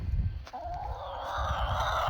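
Chickens kept in a brooder cluck and murmur nearby, soft low calls running through the clip with a higher drawn-out squawk rising in the second half.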